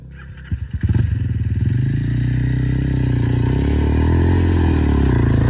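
A motorcycle engine starts with a few sputtering pops, then settles into a loud, close, steady throaty drone that rises gradually in intensity.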